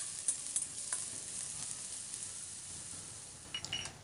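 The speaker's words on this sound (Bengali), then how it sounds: "পেঁয়াজটাকে ভালো করে নাড়াচাড়া করে আমি ভেজে নেব।" Chopped onions frying in oil with cumin and dry chilli, stirred in the pan: a soft, steady sizzle with a few light scrapes and clinks near the start and end, no talking.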